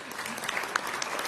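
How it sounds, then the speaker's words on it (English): Dense crowd applause at a Philadelphia mayoral town hall, steady clapping from many hands throughout a brief moment with a few louder individual claps standing out. "Councilmember Young, give him a round of applause."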